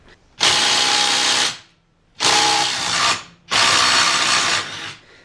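A power tool whirs in three loud bursts of about a second each, separated by short pauses, backing out mounting bracket bolts from a Honda Pioneer 500 front differential on a workbench.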